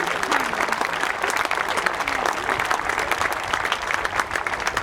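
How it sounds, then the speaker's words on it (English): An airshow crowd at Farnborough applauds a parachute display team, dense sustained clapping outdoors with a voice talking over it throughout. "if you can give them a round of applause"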